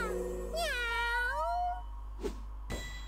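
A cat in the Seven Knights video game gives one clear, rising-and-falling meow, followed by two short clicks over a steady low hum.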